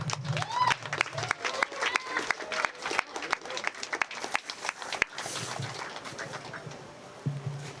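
An indoor audience at a bike storytelling night claps in welcome, a steady run of scattered, close handclaps with cheers and voices mixed in, thinning out toward the end.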